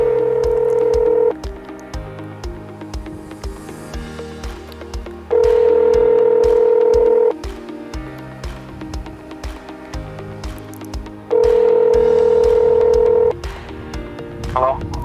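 A telephone number is punched in on a phone before a call: loud steady dial tones return three times, with a quicker run of keypad tones in between and a voice talking faintly underneath.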